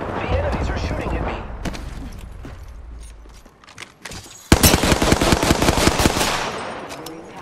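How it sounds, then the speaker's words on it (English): Enemy gunfire in a shooter video game: scattered shots over a low rumble, then loud, rapid automatic bursts cracking close by in the second half, with game voice lines present. "The enemies are shooting at me."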